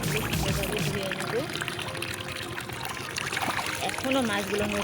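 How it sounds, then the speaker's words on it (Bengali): Fresh koi, or climbing perch, are washed in water, with soft sloshing, pouring and small splashes close by. A person talks over the water sounds throughout. "মাছগুলো সুন্দরভাবে ধুয়ে নেব"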